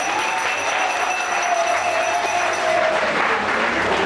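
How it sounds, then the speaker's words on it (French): An audience at a ceremony gives the organizing committee a steady, dense round of applause, close and even in level throughout, with faint tonal sounds lingering in the background. "Je vous demande d'acclamer le comité d'organisation."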